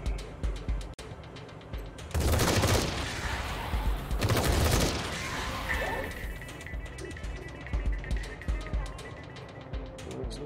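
Two heavy bursts of gunfire from a shootout in Wasteland 3, each about a second long and loud, separated by a short gap and surrounded by lighter clicks and thuds of combat.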